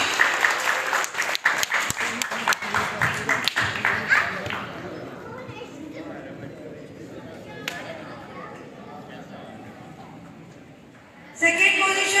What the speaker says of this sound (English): A big round of applause to Tanish.